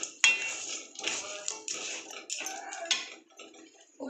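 Crab being sautéed and stirred in a pan as its juices cook off, with repeated close scraping and clinking of a utensil against the pan in irregular bursts.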